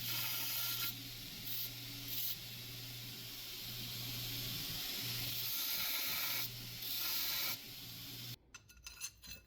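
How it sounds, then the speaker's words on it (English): Angle grinder refining the tang of a forged dagger, giving a steady close loud hiss-whine with a few brief surges as contact changes, cutting off abruptly near the end into quieter clatter. "So I'm just going to take the angle grinder and refine the shape a little bit."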